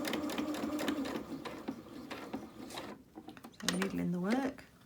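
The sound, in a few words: sewing machine stitching fabric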